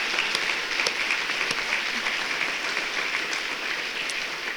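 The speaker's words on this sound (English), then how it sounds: "So let's give a big round of applause to the selection committee." Sustained applause from an awards ceremony audience honoring a selection committee, even and continuous clapping from many hands at moderate distance.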